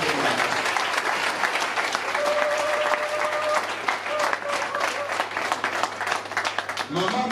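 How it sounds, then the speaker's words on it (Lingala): A crowd at a political rally claps loudly and steadily for an honoured woman, dense sustained applause with a faint whistle or tone riding through the middle. "Bobetere maboko makasi."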